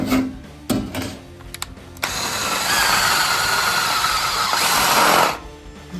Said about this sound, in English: Now we have to put some holes in this side because the bottom side has to be spot welded.